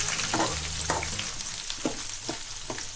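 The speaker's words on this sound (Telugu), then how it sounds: "ఈ ఉల్లిపాయలు అంతా బాగా గోల్డెన్ కలర్ వచ్చేంత వరకు బాగా వేగనివ్వాలి." Chopped onions fry in a pan until golden for Kurnool-style uggani, a steady loud sizzle with a few soft stirring scrapes over three seconds and no talk.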